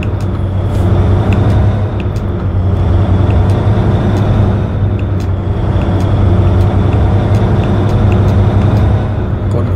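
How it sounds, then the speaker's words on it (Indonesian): Heavy road traffic with a large Scania trailer truck rumbling past at close range, a steady loud low engine drone filling the whole stretch with faint intermittent clatter above it. "Tuh, ada truk lagi."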